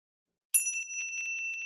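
A small bright bell rings once after silence at a Miss Philippines Earth pageant interview round, marking the end of a contestant's speaking time, its clear metallic tone ringing on and slowly fading, with no talking.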